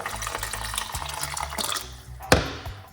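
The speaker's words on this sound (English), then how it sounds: "pour a little bit more water." Water being poured into a parsley and lemon tea, a continuous liquid trickle and splash with a brief louder splash near the end, close by and without talk.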